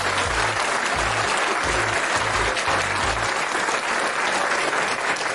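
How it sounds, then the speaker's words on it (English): A crowd gives sustained applause for Super Dave during a Seahawks vs 49ers pregame talk show, dense and steady clapping at full volume for several seconds with no voices over it. "Give that man a round of applause."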